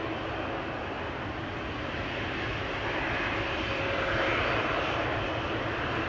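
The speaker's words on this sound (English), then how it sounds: "Embraer 190 to Düsseldorf, KLM flight 1799" Embraer 190 jet airliner at Amsterdam Schiphol Airport, a steady, loud broadband engine roar that swells slightly toward the end, with no talk over it.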